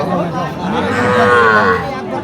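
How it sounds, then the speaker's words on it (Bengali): A cow moos loudly and close by at a cattle market in Raniganj, a long drawn-out bellow rising and falling over two seconds, with faint crowd murmur behind it. "এদিকে দেখতেছি সুন্দর সুন্দর গরু"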